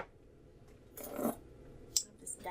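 A brief snip of scissors cutting paper at a desk, with a few light rustles and a sharp small click afterward, quiet and close.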